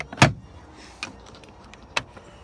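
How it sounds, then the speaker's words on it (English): Door of a 2005 Ford F150 truck opening, with a sharp close-up latch click followed by two fainter clicks about a second apart, no talking. "I'm gonna open the door again."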